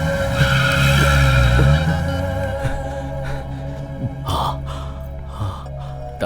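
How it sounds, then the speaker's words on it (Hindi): A car pulls out with its tires skidding and squealing in an action film scene, a loud engine surge and screech up front followed by a lower idling rumble and a few sharp bumps and thuds. "गाड़ी निकालो।"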